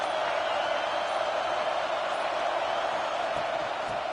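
Steady, dense roar of a football stadium crowd at Florida State, a constant wash of massed voices with faint whoops, loud and unbroken throughout.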